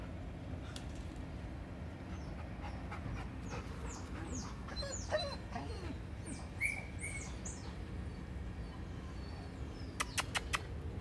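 Dogs at an animal shelter let out faint whimpers and short yelps amid quiet background chirps, soft and intermittent with no talking.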